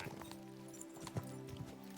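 Horse hooves clip-clop in a galloping rhythm during a race in the Kingdom Come: Deliverance 2 video game, steady and close over a continuous low game ambience, with no talk.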